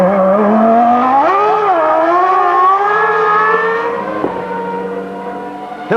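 A 1994 Formula 1 car screams past at high revs, its engine pitch sliding up and holding in a sustained loud whine, then dropping away near the end as it crosses the finish line alone.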